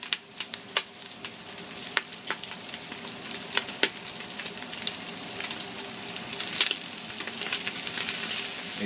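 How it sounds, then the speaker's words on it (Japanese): Honeycomb tripe and soaked chickpeas fry in an oil-slicked pan, a steady close sizzle broken by sharp crackles and pops, with no talking. "蜂の巣だけで焼き色をつけていきます"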